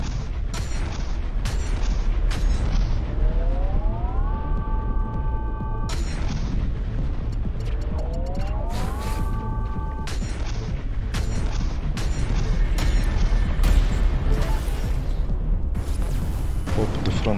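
Spaceship weapons firing in Everspace 2, with repeated sharp shots and booms over a constant engine rumble and rising whine sweeps, all close and loud throughout.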